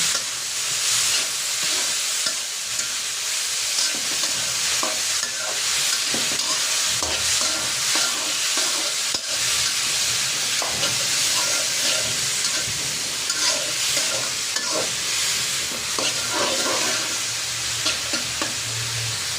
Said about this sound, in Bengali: চুলা হিসেবে মিডিয়ামে রেখে অনবরত নড়াচড়া দিয়ে লাল শসাগুলো ভেজে নিতে হবে